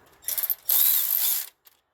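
Ratchet wrench tightening bolts on a Nissan Sentra thermostat housing: a short clicking burst followed by a longer steady run of rapid pawl clicks, close and alone, then quiet.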